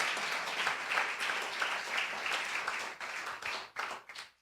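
Church congregation clapping and applauding together, a dense sustained burst of applause filling the room before tapering off unevenly near the end.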